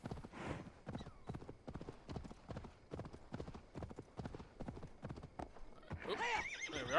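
A horse in the video game Assassin's Creed Valhalla trots with a steady clip-clop rhythm of hoofbeats, moderately close, then finishes with a sharp neigh at the end.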